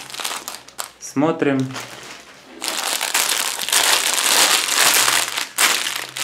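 A plastic parcel from China is torn open with loud, close crinkling and rustling that runs in bursts and then steadily. A person speaks briefly over the packaging noise.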